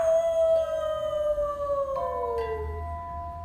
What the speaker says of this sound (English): more like a wolf dog, runs across your path and starts howling